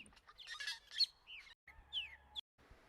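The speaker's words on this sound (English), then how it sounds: "These are birds." Outdoor birdsong with several quick chirps, tweets and squawky calls in irregular bursts, fairly close against a quiet background, with a couple of short gaps.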